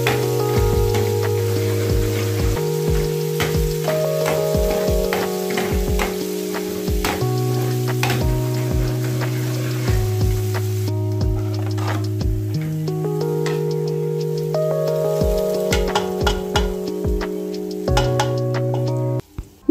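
Steady sizzling of food frying in hot cooking oil for dal, with a low tonal hum playing through it.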